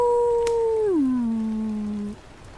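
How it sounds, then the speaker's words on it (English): A wolf howl sound effect, a single long tonal cry that holds steady, then slides down in pitch and fades out, heard alone without talk. "This time the howl is so loud, the ground shakes."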